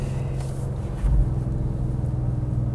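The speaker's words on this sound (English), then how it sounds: "Now we're driving an M760, top of the range." BMW M760Li, top of the range, driving along, a steady low engine and road hum heard from inside the cabin with a brief deeper surge near the middle.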